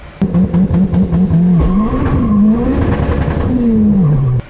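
A Pulsar 6466-turbo DSM race car runs in front-wheel-drive mode at the track, its engine loud and close, revving hard then rising in pitch through acceleration amid tire squeal and skidding.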